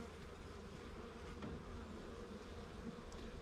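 Honeybees swarming up from an opened hive in mid-September during queen replacement, a dense steady buzz of many insects flying close by, continuous and fairly loud with no talking.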